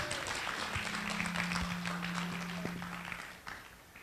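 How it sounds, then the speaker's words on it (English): A conference audience at an Agile in Africa event gives a speaker a round of applause, faint and somewhat distant, a steady patter of claps that slowly fades, with a low hum running beneath. "let's give Karen a round of applause"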